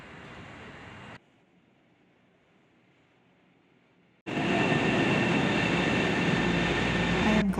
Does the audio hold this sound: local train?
yes